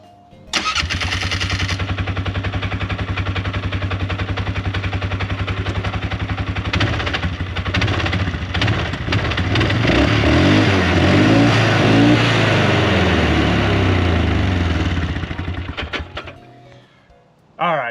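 A Triumph-style Scrambler motorcycle engine starts up and runs loud and close for most of the clip, with a steady throbbing idle that rises into heavier revving midway before cutting off near the end.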